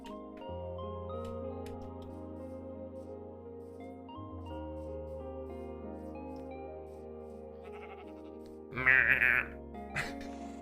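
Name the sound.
person imitating sheep noises during Minecraft stream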